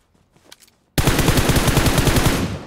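Gunfire in a battle royale shooter video game on the Livik map, a loud sustained rapid automatic burst that starts abruptly after a near-silent moment with faint clicks.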